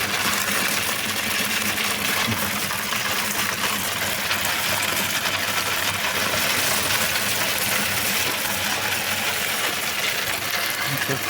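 A pumpkin seed cleaning blower machine runs at low speed, a constant loud broadband whooshing roar with faint rattling mixed in, steady from start to finish.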